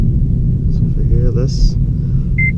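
A Honda Civic Si pulls away in first gear, heard from inside the car as a steady, close low engine and road rumble that never lets up, with a few faint chirps and a brief voice over it.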